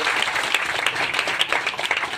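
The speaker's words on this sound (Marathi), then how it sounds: "निश्चितपणे त्या माऊलीसाठी आपण एकदा टाळ्या वाजवल्या पाहिजे" Audience at a community felicitation event breaks into steady, fairly close applause, dense overlapping claps continuing throughout without speech.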